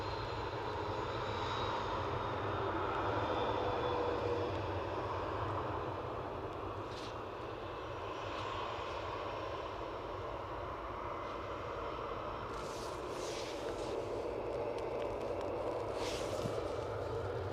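An easyJet Airbus A320 departs Manchester Airport for Madrid, a steady distant engine rumble holding at moderate level throughout, with a few faint higher bursts toward the end and no talk.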